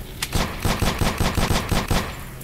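Rapid gunfire in the SOS Survival video game, a rhythmic burst of about eight or nine loud, evenly spaced blasts in quick succession with no voices over it.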